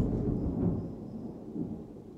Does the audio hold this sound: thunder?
yes